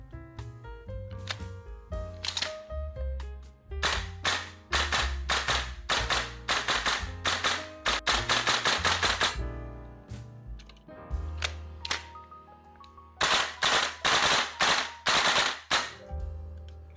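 A VFC HK416A5 V3 gas blowback airsoft rifle fires sharp, snappy shots in rapid bursts and strings, close and loud, over background music.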